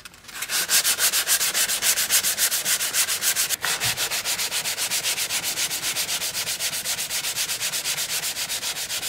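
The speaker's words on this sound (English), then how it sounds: "I'm using a soft sanding block" A soft sanding block rubbed over a plastic car bumper cover in steady, rhythmic back-and-forth strokes, close and fairly loud, with one brief knock partway through and no talking.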